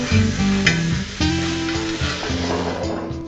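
Chicken pulao fries on a hot tawa with ginger while it is stirred, giving a steady close sizzle with scraping strokes of the stirring utensil throughout and no talking.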